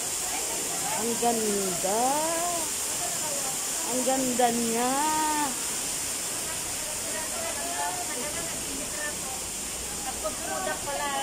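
Water flows outdoors with a continuous hiss, and a person speaks over the steady rush.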